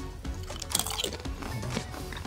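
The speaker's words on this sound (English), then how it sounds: "These are bananas crisps." Crunchy banana crisps being bitten and chewed close up, a run of crisp, brittle crunches over about two seconds with no talking.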